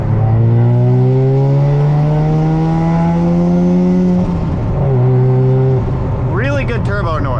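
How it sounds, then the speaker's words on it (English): Mazda RX-7 FD rotary engine with turbo accelerating, a loud climbing rasp through the revs with shifts between gears, heard close from inside the car, with a voice speaking briefly near the end. "Really good turbo noise, really good."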